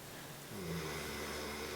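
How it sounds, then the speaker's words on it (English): Low, rumbling snoring from a dog, a steady nasal drone that swells slightly midway, close and fairly quiet. "Sorry, Toby is really snoring"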